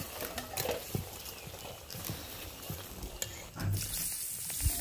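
Taro stolons (lati) are gently stirred as they cook in a pan, producing a soft sizzle with light scraping and irregular stirring taps, quiet and close.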